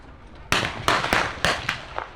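Infantry fire blank rounds during a WW1 battle re-enactment at Tank Fest 2025, a rapid string of five or six loud, sharp cracks at close range with brief gaps between them.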